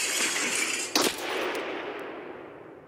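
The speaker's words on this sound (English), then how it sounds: "He's shooting you through that thing." A sharp gunshot cracks once from Escape From Tarkov over a steady wash of background noise, followed by a fainter snap a second later.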